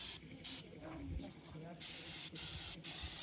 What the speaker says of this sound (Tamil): அதை பெயிண்ட் அடிச்சிட்டு இருக்காங்க